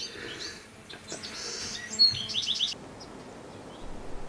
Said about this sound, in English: There were plenty of birds around, just not the kind of birds I wanted to shoot.